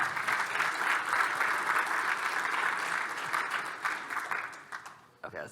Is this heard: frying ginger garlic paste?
no